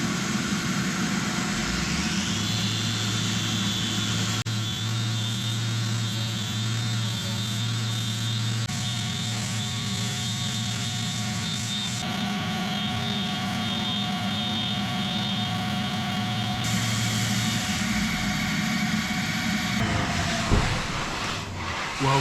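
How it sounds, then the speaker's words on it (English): A power sander works across the rotten wooden roof of a boat under restoration, a steady motor whine and grinding drone running continuously for about twenty seconds before winding down near the end. "let's get the sander on this and see what it ends up looking like"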